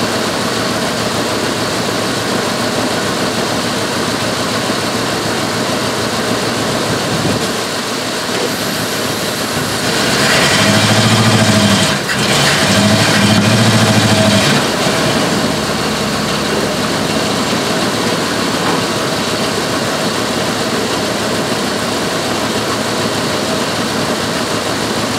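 A Dodge 318 Magnum V8 with a newly installed intake runs steadily at a low idle, with a louder swell of revving partway through before settling back to a constant rumble; no one speaks.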